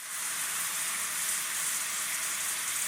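Steaks sizzle on a hot grill, giving a steady, loud broadband hiss that holds evenly for the whole stretch, with no voices over it.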